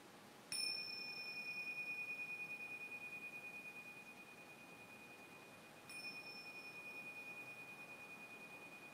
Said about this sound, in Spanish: Cuando suenen las campanillas podéis ir abriendo los ojos lentamente.